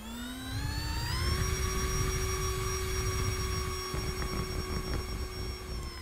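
A Habu 70mm EDF jet in the RealFlight simulator whines steadily in flight, its ducted-fan tone rising in pitch over the first second and then holding as a sustained, loud electric-turbine drone.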